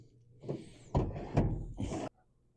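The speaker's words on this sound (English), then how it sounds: "we're going to open the door and see what they look like" A door is opened on an outdoor cold storage space holding homemade deer sticks, making a short run of clunks and a rattling swing that lasts about a second and a half before stopping abruptly.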